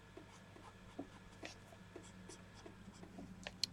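Derwent pastel pencils colouring on a sketchbook page, a soft close scratching and rubbing of strokes in an uneven rhythm, quiet and steady with no voices.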